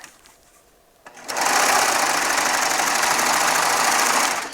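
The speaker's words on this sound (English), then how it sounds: "I'll just flip it right over and sew those two edges together" A Baby Lock Triumph serger stitches the edges of jelly roll quilt fabric, starting after a quiet moment with a steady, fast mechanical whirring hum that runs continuously for several seconds before stopping.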